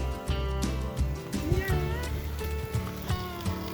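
A cat meows among people chatting on a mountainside near Isfahan, its short wavering calls rising out of busy voices and background noise.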